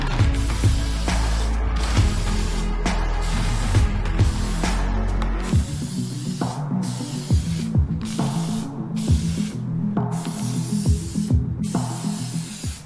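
A spray can lays paint onto plastic trim from a 1998 Honda Civic coupe in several long, close, loud hissing bursts, with the can's mechanism clicking and rattling in the gaps between them.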